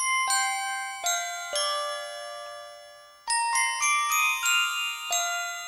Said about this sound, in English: So that's a good, really good, strong ringing bell.